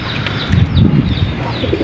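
Young racing pigeons being readied for derby races coo softly in their loft, low burbling calls with a faint flutter of wings, close by and heard without talk.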